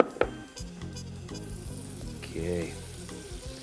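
Butter dropped into melting, caramelizing sugar in a hot pan bursts into a loud sizzle, with bubbling crackle and a spoon scraping the pan, while a voice briefly speaks.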